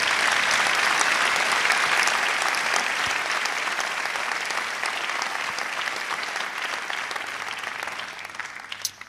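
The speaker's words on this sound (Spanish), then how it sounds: "¿Cuántos pueden darle un aplauso fuerte al Señor?" Church congregation applauding loudly during a Spanish-language worship service, a dense, steady wall of clapping filling the room for about nine seconds before thinning slightly at the end.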